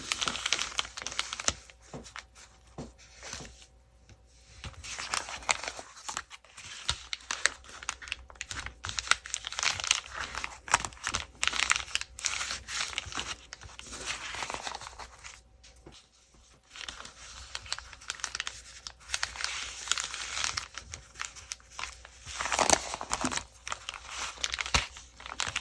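A paper journal cover being folded in, heard as soft, continuous crinkling and crackling paper handling at close range, quiet and irregular throughout with no voices.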